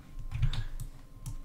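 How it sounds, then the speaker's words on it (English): Keys being typed on a computer keyboard in short bursts of close, light clicks and taps, with no talk over them. "I'll see if I can type IC."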